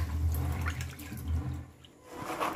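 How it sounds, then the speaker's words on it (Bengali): Soaked chickpeas rinsed in water close by, with steady sloshing and splashing that swells and fades in a few waves over a couple of seconds, no voices. "এখন আমি বেশ কয়েকবার জল দিয়ে পরিষ্কার করে ছোলাগুলোকে ধুয়ে নেব।"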